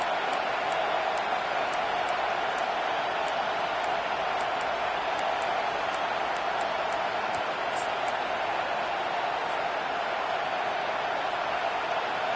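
Stadium crowd in a college football video game, SMU versus Miami, roaring as a steady wash of cheering noise on third down, with faint clicks scattered above it.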